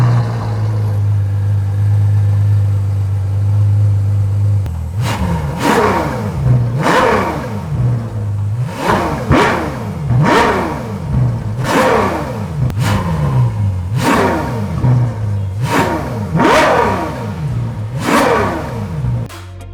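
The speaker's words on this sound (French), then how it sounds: "je ne peux vous laisser sans le son de ce V12 qui est absolument parfait à mon sens, qui monte dans les aigus" A Ferrari 812 Superfast's naturally aspirated V12 idles, then is blipped about eight times in a steady rhythm, each rev rising sharply into a high shriek and falling away, loud and close with no talk.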